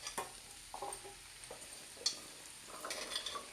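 Jackfruit seeds go into a pan of mango curry, bringing a faint sizzle along with soft stirring scrapes and a few light clicks against the pan, with no talking.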